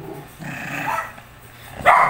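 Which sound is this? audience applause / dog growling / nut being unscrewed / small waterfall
dog growling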